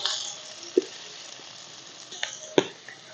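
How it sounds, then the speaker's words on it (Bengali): Onion paste dropped into hot oil in a pan for prawn malai curry sizzles with a steady hiss, broken by a few sharp clicks and taps of a utensil against the pan. "পেঁয়াজ বাটা দিয়ে দিলাম"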